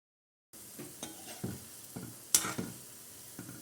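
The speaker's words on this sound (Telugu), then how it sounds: "ఇలా పల్లీలాగా విడివిడిగా వేసుకుంటే ఏంటి అంటే క్రిస్పీగా ఫ్రై అవుతుంది" Masala peanut pakodi drops into hot oil after a short silence, then a soft, close sizzle with scattered small crackles and splashes, and one sharper pop midway.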